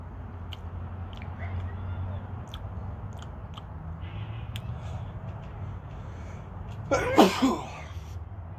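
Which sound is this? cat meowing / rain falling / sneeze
sneeze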